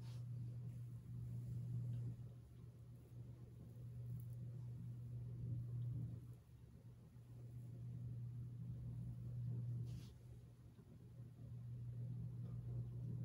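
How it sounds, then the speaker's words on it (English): A white 42-inch Hampton Bay Grayton ceiling fan with slightly tight bearings spinning down, giving a low, steady hum that pulses slowly and evenly throughout. "Bearings are still a little tight, so the spin down isn't very long."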